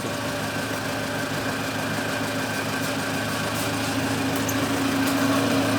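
A homemade electric generator driven by a 5.5 kW motor runs steadily, a loud continuous engine-like hum with a faint vibrating rattle and no pauses.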